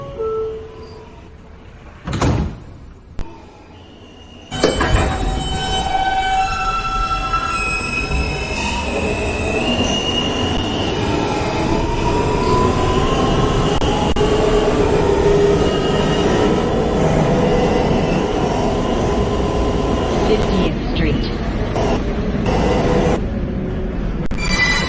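A Queens-bound N local subway train runs steadily and loudly after a short quiet start, with rumbling wheels, rattling cars and high wheel squeal throughout, heard from inside the car with no talk.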